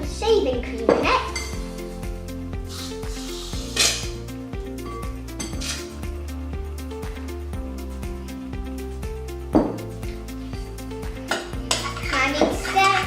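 A utensil clinks and scrapes repeatedly against a bowl while slime mixture and shaving cream are stirred together, with irregular knocks and clatter and someone talking intermittently throughout.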